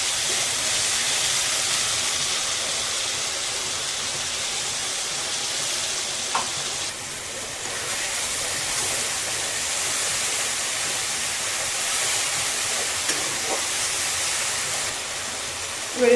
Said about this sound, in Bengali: এবার আমি যে পেস্টটা বানিয়েছি, পেস্টটা আমি তেলে ছেড়ে দিই।